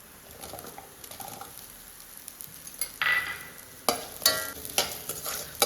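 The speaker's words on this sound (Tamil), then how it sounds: "சின்ன வெங்காயம் பச்சை வாசம் போகிற வரையும் நல்லா வதக்கி விடணும்" Small shallots (pearl onions) sautéing in a pan for bitter gourd chutney with ginger, garlic and coriander, a soft sizzle with scraping stirs that grow louder and more frequent toward the end, no voices.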